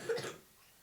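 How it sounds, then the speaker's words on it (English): A single short, dry cough up close, followed by near silence. "Oh, dry cough."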